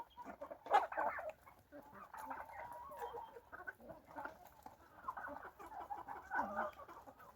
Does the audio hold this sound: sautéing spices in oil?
no